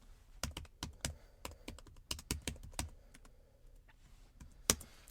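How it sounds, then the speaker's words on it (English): Loud typing on a computer keyboard, a quick irregular run of sharp, close key clicks with short pauses between bursts, ending with one especially hard keystroke. "I purposely typed loud."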